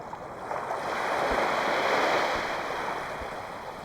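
Gentle waves wash and lap at a Northumberland beach in a soft, steady hiss, swelling slightly and then fading, with no voices.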